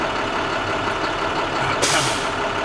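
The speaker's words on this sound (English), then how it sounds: "That was our second governor cutout." An idling Class B truck's air brake governor cuts out with a sudden sharp hiss of released air, close and loud over the steady rumble of the engine.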